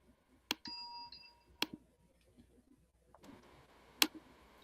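Two bright bell strikes ring out, each followed by a lingering echoing tail, then a softer click and another sharp ding later on.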